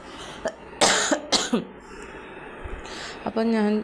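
A few sharp coughs burst out close by, separated by short pauses, with quieter breathy sounds and a brief voiced noise at the end.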